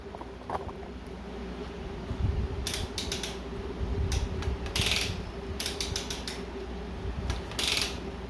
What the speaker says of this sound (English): I'm just going to shift it and make sure everything is working for us here. So it is shifting.